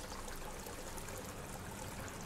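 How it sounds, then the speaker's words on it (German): Steady rushing of flowing water in the dark-fantasy video game Lords of the Fallen, a dense, even wash that runs unbroken at moderate level with no voices over it. "Sound mit dem Wasser auch ganz nice."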